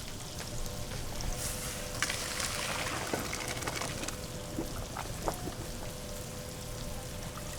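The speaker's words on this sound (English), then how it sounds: "So we're gonna strain this rice." Cooked rice is poured into a strainer in a kitchen, water splashing and draining in an uneven, hissing stream with scattered drips and clinks, fairly faint and without speech.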